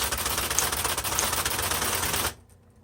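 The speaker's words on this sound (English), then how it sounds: "there are 3 buttons on electric typewriters that have an auto repeat" A 1970s Electra 210 electric typewriter hammers out a rapid, loud, machine-gun-like burst of key strikes on auto-repeat, close up, then stops abruptly.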